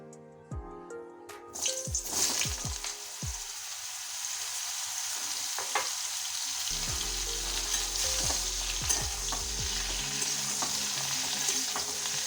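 Chopped ridge gourd hitting a hot spice tempering bursts into a loud sizzle that settles into a steady frying hiss, with a few clinks and stirring scrapes close by.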